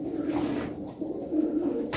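Pigeons at a loft cooing briefly, soft low throaty coos repeating over faint background noise.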